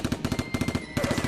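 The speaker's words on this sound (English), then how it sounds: "The bullets they're firing do pack quite a wallop" Staged gunfire from the criminals' guns in an audio drama, a rapid burst of repeated shots in a steady rhythm with a brief pause, loud and close, with no talk over it.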